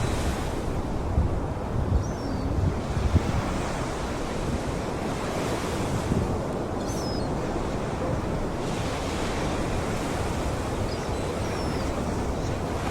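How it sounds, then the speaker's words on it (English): Huge ocean waves break and roll at Nazaré, Portugal, in a continuous roaring surf mixed with strong wind buffeting the microphone, steady and loud throughout. "I haven't seen waves anywhere near as large as these."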